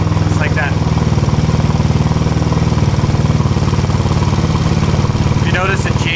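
A fuel-injected GY6 171cc scooter engine in a Honda Ruckus runs lean at about 2000 RPM, a loud, close, steady rapid putter with even pulses and a brief whine near the end.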